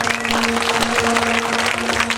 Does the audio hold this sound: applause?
yes